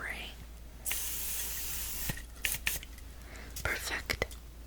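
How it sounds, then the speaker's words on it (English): Several short hissing bursts of a precise micellar spray, close and soft in a quiet room, interleaved with whispering. "clean up the outer edge of your eye with my very precise micellar spray"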